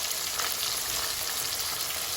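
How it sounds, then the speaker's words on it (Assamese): Chicken pieces frying in a pan for homemade butter chicken, a continuous close hiss and crackle of sizzling oil with no talking. "এইকেইডোখৰ আমি কমকৈ ফ্ৰাই কৰিম।"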